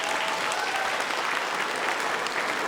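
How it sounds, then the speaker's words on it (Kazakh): An audience at a wedding feast claps in a dense, even burst of applause that holds steady throughout, with no voices rising above it. "шапалақ ұрып қояйықшы"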